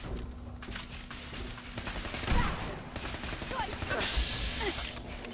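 Gunfire from Fallout 4 gameplay on Survival difficulty: a few bursts of shots and impacts amid a busy game soundscape, with a loud burst in the middle and another near the end.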